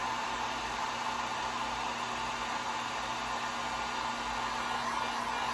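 A dryer blows steadily over stencilled craft ink, giving a loud, continuous whirring hiss with a constant hum underneath. It runs evenly with no talk.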